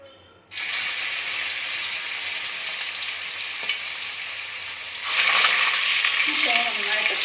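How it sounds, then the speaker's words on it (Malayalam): Masala-coated chicken hits hot oil in a pan and breaks into a loud, steady sizzle that keeps on, rising further near the end with faint kitchen clatter. "അപ്പോൾ ഇനി ഞാനിതൊന്ന് ഫ്രൈ ചെയ്തെടുക്കാൻ പോവുകയാണ്."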